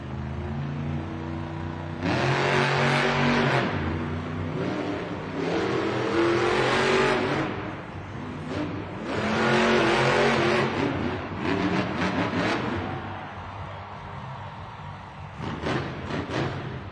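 The Gravedigger monster truck at a Monster Jam arena event in Las Vegas roars in loud, repeated revving bursts that rise and fall several times, with an arena crowd and rumble filling the gaps.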